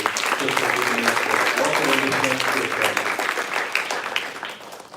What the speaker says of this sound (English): So please give me a big applause